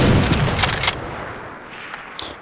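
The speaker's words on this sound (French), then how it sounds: "le petit sniper, vous avez vu comment ça fait, comment le bruit il est puissant" Sniper rifle shots from a firearms mod in a block-building video game: a few sharp, loud cracks in quick succession at the start, then a fading tail and one smaller report later.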